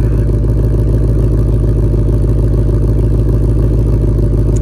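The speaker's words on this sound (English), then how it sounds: "So now our RPMs have come down now that the engine's gotten warmer." A 2020 Shelby GT500's V8 idles steadily up close after warming up, its deep low rumble pulsing in an even, loping rhythm without any revving.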